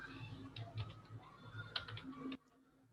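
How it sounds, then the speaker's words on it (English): Typing on a computer keyboard in an office software setting, a quick run of soft clicking keystrokes, close and fairly quiet, ending abruptly into near silence. "So here you will start typing the name."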